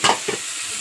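Masala sizzling in a hot pan with a couple of quick stirring scrapes near the start, then a soft steady fry, close up with no talk.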